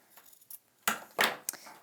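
Small scissors snip off bits of thread or fabric, three or four short, crisp cuts close up in a quiet room.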